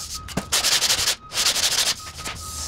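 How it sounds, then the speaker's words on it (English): Hard maple is hand-sanded flat with fine-grit paper in brisk back-and-forth rasping strokes, close and crisp, in a steady rhythm broken by two short pauses. "Definitely sanding it flat."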